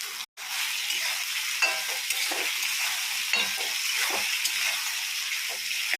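Soaked, peeled flat bean seeds frying in a pan, a loud continuous close sizzle with occasional stirring scrapes, briefly cut at the start then steady to the end.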